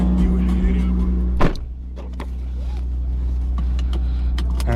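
Deep, steady exhaust drone of a straight-piped Lexus IS250 driving on a warm morning, loud and continuous with a brief louder burst early on, heard from inside the car.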